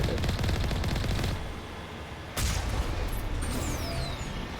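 Automatic weapon fire in the Mass Effect video game, a rapid, dense stutter of shots that stops partway through, then a sharp blast and a lingering rumble with a rising whine in the mix.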